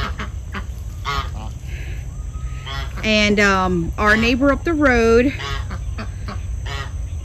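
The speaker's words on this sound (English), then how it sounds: "They're both Duluth geese." A pair of Duluth yard geese honk in several loud, close, harmonic calls in the middle of the stretch, while a person talks before and after.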